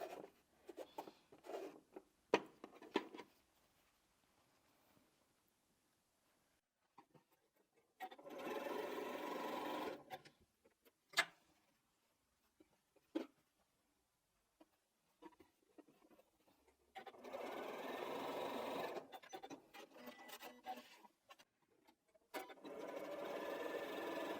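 A sewing machine stitches a quilted strippy bag in two long, steady runs of motor whir, with quiet handling and fabric rustles between them and a third burst starting near the end.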